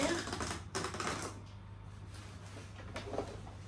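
Cardboard advent calendar boxes popped open during an unboxing, giving a quick run of sharp tapping clicks near the start and again later, faint and close, with soft handling noise between.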